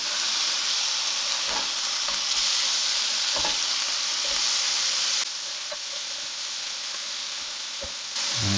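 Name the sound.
slider patties sizzling in pan after being flipped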